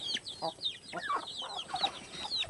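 Several chickens cluck and chatter nearby in overlapping short, squawky calls, with no talking.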